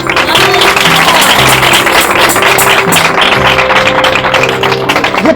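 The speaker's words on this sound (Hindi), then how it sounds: "ये ताली मेरे लिए नहीं है" A church congregation claps during a sermon, with loud, sustained applause under steady sustained musical tones that run throughout.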